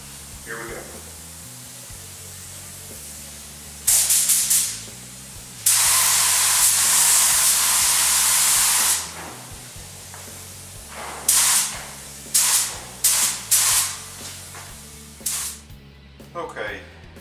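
A spray gun sprays a sparkle paint job on a guitar, giving long steady hissing blasts followed by several short bursts, loud and close against a low background hum.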